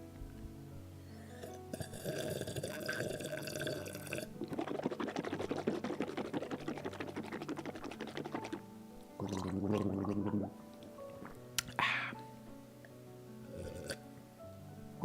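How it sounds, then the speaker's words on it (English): Close-up drinking of water into a microphone: gulping and wet, gargling-like swallowing noises in several bursts, with a brief glassy clink and quiet pauses between. "I'm gonna drink some water."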